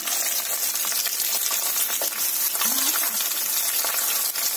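A fish head fries with ginger and garlic in a pan, a loud continuous sizzle and crackle of hot oil throughout, with faint clinks from stirring.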